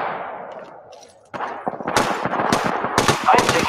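Rapid automatic gunfire bursts out in Apex Legends after a quiet stretch, dense cracking volleys with clanking echoes repeating loudly over a low ambient hum.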